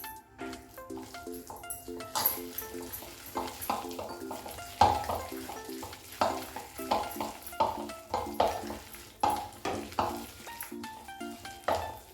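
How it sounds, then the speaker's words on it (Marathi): Hot oil poured over spinach fritter chaat and mixed in, a low sizzle under a run of rhythmic stirring and scraping clatters of a spoon against a bowl, close and fairly faint, no talking. "त्याच्यावरच गरम तेल घालायचं आहे"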